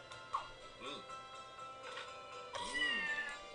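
Human-like cat in the video game Scribblenauts Unlimited, a few short, faint meows with rising and falling pitch, spaced over a quiet background.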